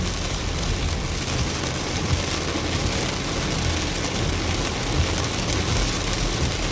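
Steady rain pours down in an even, continuous hiss with soft patters throughout, and no voices are heard.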